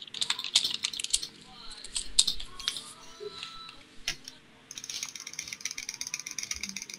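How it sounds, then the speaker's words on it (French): Rapid, crisp mouse clicks and keyboard taps during a fast-paced survival game base defence, close-up and fairly steady, with bursts of game effects in the background. "Vous entendez les clics de mes souris, bien sûr."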